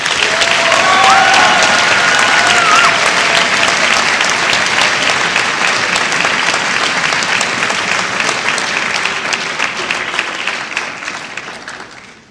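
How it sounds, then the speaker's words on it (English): A school spring orchestra concert audience applauds graduating seniors, a long, loud wash of clapping from a large crowd that holds steady for about ten seconds before tapering off. "One more applause for all of our seniors"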